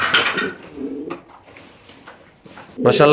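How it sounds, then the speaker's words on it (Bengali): A pair of East Persian Tumbler pigeons coo in soft, throaty bursts at close range, with a louder cooing phrase at the end. "এখানে এক পেয়ার কবুতর আপনি দেখতে পাচ্ছেন ভাই ইস্ট পার্সিয়ান টামলার"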